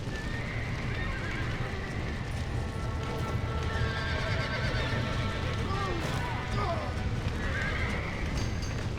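A horse neighs and whinnies in the Red Dead Redemption video game, with clip-clopping hooves, a rumbling fire-like background and a man calling out over the action.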